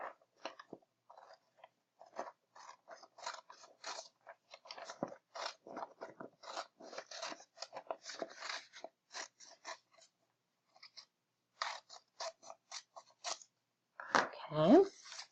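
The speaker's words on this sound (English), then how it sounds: "I'm going to take my scissors and just cut that circle." Scissors snip and crunch through paper, cutting out a circle in quick irregular bursts, close up, with short pauses between runs of cuts.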